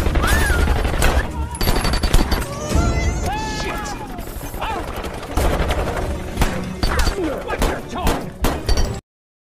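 Bursts of gunfire in a film gunfight scene, rapid cracks and slams packed densely over a busy soundtrack with music and effects, loud and continuous.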